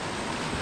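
Water flows over small rocks in a scenic stream, a steady close rushing and bubbling wash with no pause and no talk.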